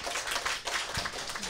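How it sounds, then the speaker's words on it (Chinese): An audience at a Buddhist dharma lecture applauds with dense, continuous clapping at moderate volume throughout the moment. "给他掌声鼓励"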